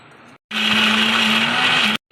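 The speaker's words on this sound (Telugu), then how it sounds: "కొంచెం వాటర్ వేసుకొని మిక్సీ వేసుకోవాలండి." A mixer grinder runs in a short loud burst, blending onion chutney with a little added water, its high whine steady before stopping sharply.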